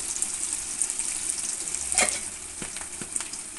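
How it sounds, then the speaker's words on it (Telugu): Ginger garlic paste with turmeric fries in a pan alongside onions for a dried fish and bottle gourd curry. It gives a steady close sizzle with a few brief stirring clinks and scrapes. "అలాగే అల్లం వెల్లుల్లి పేస్ట్ కొని ఒక 5 నిమిషాల వరకు ఫ్రై చేసుకోండి"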